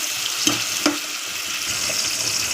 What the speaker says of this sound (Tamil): தக்காளி ஆட் பண்ணோடனே கூடவே வந்து உப்பு ஆட் பண்ணிக்கலாம் நல்லா வதக்கி விட்டுக்கோங்க தக்காளி நல்லா வதங்கட்டும்